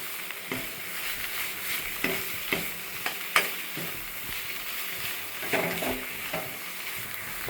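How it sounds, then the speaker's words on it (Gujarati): Bottle gourd halwa stirred in ghee over a high flame, a continuous close sizzle and frying hiss with repeated scraping strokes of the spoon, moderately loud and with no voices. "ગેસ ફાસ્ટ કરી દેવાનો એટલે આપણે જે ઘી નાખ્યું છે એ સરસ આમાં મિક્સ થઈ જાય"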